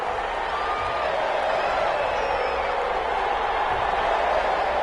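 Stadium crowd at an NFL game between the Chicago Bears and the Las Vegas Raiders in Las Vegas, a dense, continuous roar of many voices filling the whole stretch at steady loudness.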